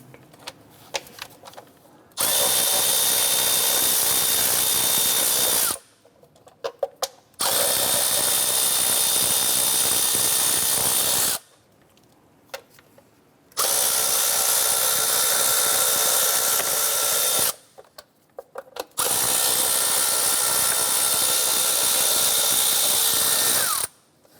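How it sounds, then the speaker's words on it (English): A power tool with a 10mm socket spins out cover bolts on a Honda Accord, giving four separate loud whirring bursts of a few seconds each, with short quiet gaps between them. "We're going to use our 10mm socket and remove these 4 bolts holding our cover on."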